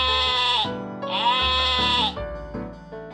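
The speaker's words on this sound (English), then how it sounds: "The sheep says." A sheep bleats twice in quick succession, each cry loud, nasal and wavering, followed by a softer trailing call, close up with nothing else audible.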